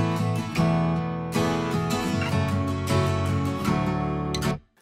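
Strummed and finger-picked acoustic guitars layered together in a pop song's outro, bright strums and plucked notes blending densely before the sound cuts off abruptly near the end.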